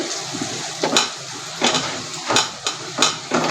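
Vegetables and potatoes frying on high heat in a pan, with a soft continuous sizzle broken by regular, sharp scraping knocks of a utensil roughly every second, close and fairly loud.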